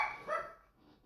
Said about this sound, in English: Dogs. Sorry.